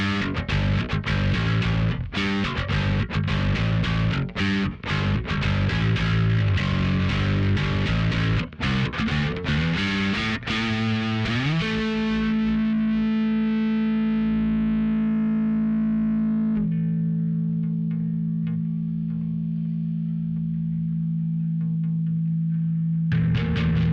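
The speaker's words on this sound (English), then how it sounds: "Now we're going to add a little more gain to that, call this driven." Bass guitar through a digital modeler set to a driven gain tone, played as a dense, distorted riff of fast picked notes, then left ringing on long sustained notes for the last half, loud and steady with no talk.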